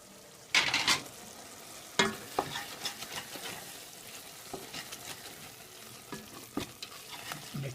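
Sauce with curry powder, cumin, coriander, chili and turmeric fries in a pan, a soft sizzle broken by louder scraping stirs of a spoon against the pan, close by and without speech.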